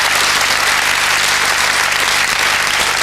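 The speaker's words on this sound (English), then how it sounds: "big round of applause for Chris!" A 1999 quiz show studio audience applauds, dense and steady clapping filling the room without a break.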